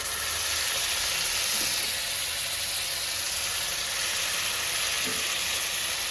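Prepared pav bhaji vegetable mash, Mumbai street style, goes into melted butter on a hot tawa and sizzles evenly and fairly loudly throughout, with no voices.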